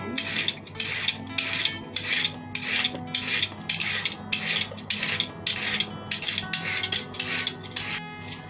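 Carrots being peeled by hand, a steady series of short scraping strokes about twice a second, close and clear with kitchen clatter and no talking.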